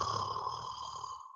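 A man imitates loud snoring with his voice, a single rasping drawn-out snore lasting over a second, close and clear with no other talk.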